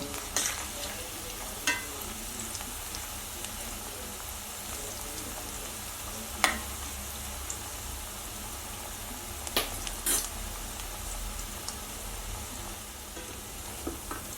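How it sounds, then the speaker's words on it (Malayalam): Cauliflower pieces fry in hot oil for a crispy street-style fry, giving a steady close sizzle and crackle with occasional sharp clicks from stirring, and no voices. "അപ്പോൾ ഇത് ഏകദേശം രണ്ട് സൈഡും നന്നായിട്ട് ഫ്രൈ ആയിട്ടുണ്ട്"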